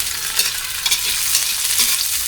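Onions fry with ginger in a pan, a steady bright sizzle with soft stirring scrapes, close and continuous throughout.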